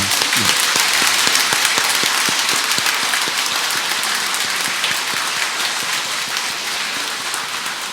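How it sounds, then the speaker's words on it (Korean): Sustained audience applause of encouragement at a send-off ceremony for a youth overseas volunteer team bound for Laos, a dense steady wash of many hands clapping for the full stretch, slowly easing off. "우리 청년들이 봉사활동 라오스에 잘 다녀올 수 있도록 우리 큰그 격려 박수 부탁드리겠습니다."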